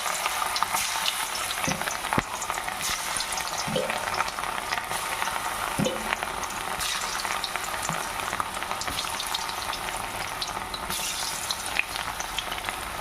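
Coated cauliflower pieces frying in very hot oil, a dense, steady bubbling sizzle that holds throughout, with a few soft clicks as pieces are added, no speech.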